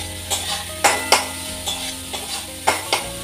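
Chowmein ingredients frying in oil in a home kitchen pan, a steady soft sizzle broken by several sharp scraping stirs at irregular intervals, close by with no voices.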